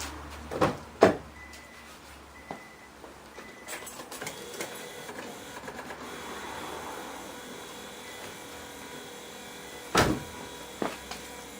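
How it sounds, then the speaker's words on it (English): Windshield wiper motor on a 2003 Infiniti G35 running through its sweeps, a low mechanical whir broken by a few sharp clunks and thumps at the ends of the strokes, with no voices. "turn the wipers on just to make sure it all works"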